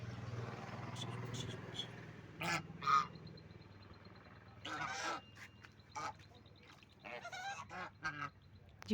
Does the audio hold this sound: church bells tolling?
no